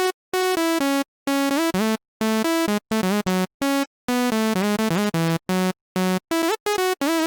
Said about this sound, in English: I grabbed this melody from a MIDI pack, which I'll just play on a saw for now.